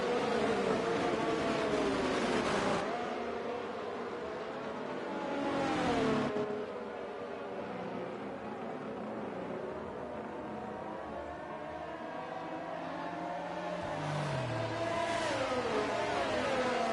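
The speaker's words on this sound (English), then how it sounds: "Cars then making their way down then under the banking." F1 racing cars in an F1 video game race at Italy pass by in a sustained high engine whine, with swelling surges as cars rush past the listener, under continuous engine noise and with no voices.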